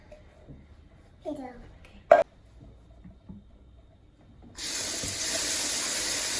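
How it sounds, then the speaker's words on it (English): A kitchen tap opens partway through and runs steadily into the sink as beans are washed, a continuous hissing splash that follows brief child chatter and a clatter. "Yes, wash the beans."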